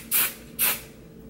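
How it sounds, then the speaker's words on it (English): Two short, sharp hisses of aerosol hairspray, each lasting about a quarter second, close and loud against a quiet background. "So I'm gonna give it a spray."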